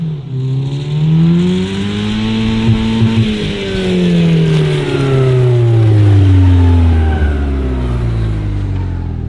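A NOS-tuned car engine revs loudly at full throttle, its pitch climbing, dropping and swelling again in sustained roaring sweeps, close and dominant with no voices.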